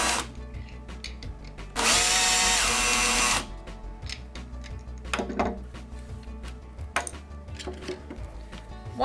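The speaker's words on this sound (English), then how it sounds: "you can cheat and use the drill to help you unscrew it." A cordless Makita BHP452 power drill briefly whirs at close range while unscrewing a screw during a brush repair, one steady loud burst of about a second and a half, followed by softer clicks and handling sounds.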